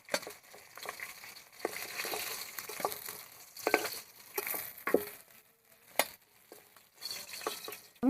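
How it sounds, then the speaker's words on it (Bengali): Bitter gourd fries in a pan with a little salt and turmeric, giving a soft sizzle broken by repeated scraping and stirring strokes that come in uneven bursts, close and fairly quiet. "আমি ভালো করে ভেজে নেব।"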